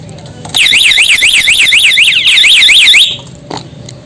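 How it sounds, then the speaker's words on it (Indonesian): An anti-theft alarm fitted to a Yamaha Vixion motorcycle blares a loud, rapid warbling siren up close for about two and a half seconds, then cuts off, followed by a short faint beep. "Ini saat alarm kita kontak. Nah, ini alarm saat di kunci orang lain atau kunci T"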